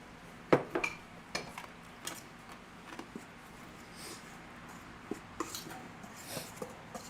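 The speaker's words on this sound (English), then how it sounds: "I'm just whisking this together again just to make sure that everything mixes in evenly" Carrot cake batter is whisked in a bowl, heard as quiet, scattered clinks and taps of the whisk against the bowl, close but faint, with no talk.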